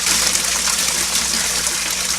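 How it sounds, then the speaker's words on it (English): Dirty water gushes from a pipe into a greenhouse aquaponics tank after a thaw, a loud, steady, splashing rush that runs without a break and with no talking over it. "Oh man, running water again."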